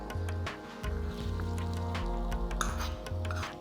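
Hot tempering of oil, garlic, curry leaves and dried red chillies poured into brinjal chutney, a close wet sputter and sizzle with a continuous low hum underneath and no voices.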